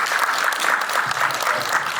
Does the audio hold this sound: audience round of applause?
yes